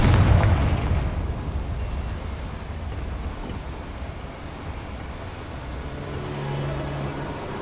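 A Confringo blasting spell explodes in Hogwarts Legacy with one loud, booming burst at the start, then fades into a long rumbling tail of low debris noise with no talk.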